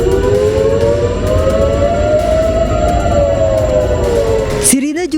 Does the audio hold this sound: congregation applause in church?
no